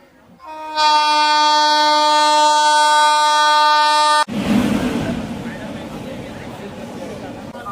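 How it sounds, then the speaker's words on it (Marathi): A loud, sustained train horn blares for several seconds, then cuts off into the rumbling roar of a train rolling past close by as it arrives at Shegaon station. "सो गाईज आता ट्रेन आलेली आहे शेगाव मध्ये"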